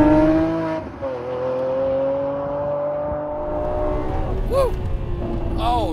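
Lamborghini Aventador Ultimae with a V12 engine and crackle tune, revving loudly while driving, a steady close drone rising into sharp throttle blips near the end.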